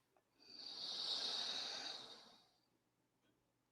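One slow, drawn-out exhale during a guided meditation breathing exercise, a soft airy hiss that swells over about two seconds and then fades into quiet, close to the microphone with no talking.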